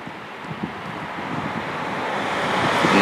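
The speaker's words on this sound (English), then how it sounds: "Look at that waterfall." A waterfall on a spring-fed river, just below a tunnel, gives a steady broadband rush of falling water that grows slowly louder, with no talk.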